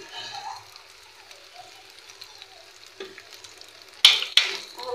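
A mixture with tomato sauce and salt is stirred and fried in a pan, with a soft steady sizzle and a couple of sharp utensil scrapes near the end, while a voice talks over it.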